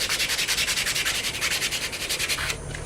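Scratches on a forged hamon blade are sanded by hand with a block, a close, steady run of rapid back-and-forth rasping strokes that stops abruptly near the end.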